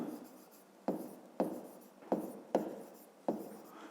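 A pen writes an asterisk by hand on paper: five or six quick scratchy strokes, each a sharp onset with a fading scrape, close and quiet with no talk.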